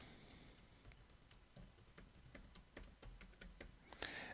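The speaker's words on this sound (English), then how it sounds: "So I'll go ahead and type in," Typing on a computer keyboard while entering serial input into a homemade 8-bit TTL CPU, a quiet irregular run of close key clicks with short pauses between bursts, with no voice.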